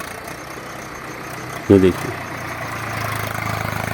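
A tractor engine runs on hill farmland with a steady, low idling rumble. A brief heavier knock briefly lifts the level partway through, and someone talks over it.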